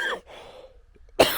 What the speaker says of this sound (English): morning, day, afternoon, evening cough